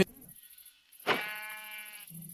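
Sheep bleating in Minecraft, a single clear, drawn-out bleat that rises sharply and fades over about a second, close and alone against near silence with faint background game sounds.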